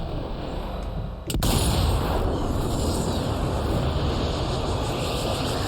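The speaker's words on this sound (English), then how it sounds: "Oh, I hit his grenade." A grenade detonates in the Sniper Elite video game with one sudden sharp blast, followed by a loud, sustained roaring rumble of battle noise.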